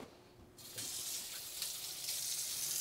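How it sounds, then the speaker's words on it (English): A kitchen tap turns on and water runs steadily into a sink for hand washing, a close, hissing, continuous stream with no talk. "I'm gonna wash my hands after this, nobody panic."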